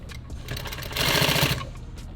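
A sewing machine stitches nylon tactical gear in one short, close run of rapid needle clatter that swells briefly in the middle, with no voices.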